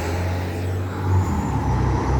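A Plaxton coach passes on a street in Kingston upon Hull, its engine a loud, steady low rumble that swells slightly as it goes by, with road noise underneath.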